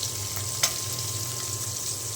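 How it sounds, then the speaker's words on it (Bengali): Tangra fish coated in salt and turmeric frying in hot oil, a steady close sizzle with one sharp crackle partway through, no voices. "ট্যাংরা মাছের যে আমি ভেজে নিচ্ছি, লবণ হলুদ মাখিয়ে ভেজে নিচ্ছি"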